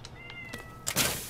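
A cat lets out a couple of short, faint meows, then a louder, breathier burst follows near the end. No one speaks.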